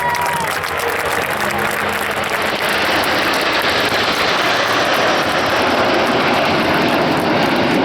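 Patrouille de France jet formation of eight aircraft roars overhead at the La Ferté-Alais 2022 air show, a loud sustained rumble mixed with crowd applause.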